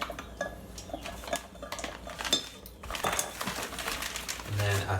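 A spoon works through a granola bar mixture in a bowl, giving close clinks and scrapes at an uneven rhythm, with voices in the background.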